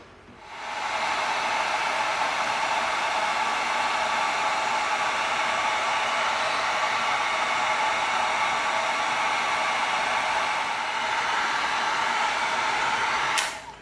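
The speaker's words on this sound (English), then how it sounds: "we're going to hit this with the heat gun and we're going to seal it" A heat gun blows hot air over an EVA foam Astro Blaster piece to seal it, its loud, steady whirring roar starting about a second in and holding constant before cutting off at the very end, with no voices.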